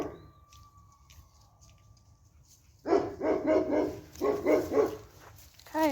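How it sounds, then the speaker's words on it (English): Coyotes call in the distance outdoors on a farm near feeder pigs, a quiet tone giving way to a chorus of yips, barks and yowls in quick bursts. "Coyotes."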